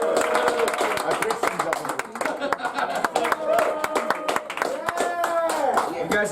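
An audience at a comedy show claps in a brief burst of scattered, uneven hand claps under a comedian's ongoing talk, with sharp individual claps rather than sustained applause.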